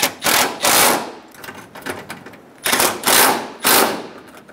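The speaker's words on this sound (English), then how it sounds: "Snug down the bracket bolts." Ratchet or wrench clicking in quick bursts while snugging down bracket bolts on a Subaru Outback during timing belt and water pump work, four loud rattling runs separated by short pauses.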